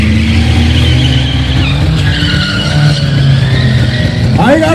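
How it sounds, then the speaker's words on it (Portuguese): A Chevette fitted with a four-cylinder Opala engine performs on a track, its engine roaring loudly and continuously with tire squeal and skidding, ending in a rising rev. "Então são 4 cilindros, motor de Opala em cima do Chevette."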